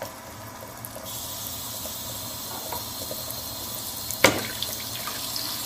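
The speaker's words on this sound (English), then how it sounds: "the sink is being filled with water" A water tap runs into a sink, giving a steady hiss of flowing, filling water that stays close and constant, with a sharp clunk near the end.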